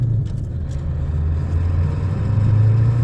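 A pickup truck with a 4-inch exhaust pulls away in first gear, its engine giving a deep, steady low rumble that swells slightly toward the end, loud and close with no talk.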